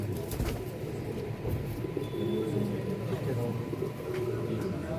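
Male racing pigeons of a champion bloodline give soft low coos close by under steady background noise, with a few sharp knocks and clicks mixed in.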